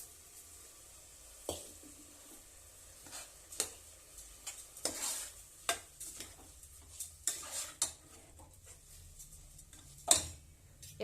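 Rice is stirred in a pan with spices for fenugreek pulao, a series of sharp metal spoon scrapes and clinks against the pan at irregular intervals, close and fairly quiet with no talk.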